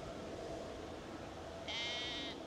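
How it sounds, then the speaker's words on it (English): Sheep bleating in an open field, a single clear, fairly close bleat rising near the end over a steady outdoor background hum. "Anyway, sheep everywhere."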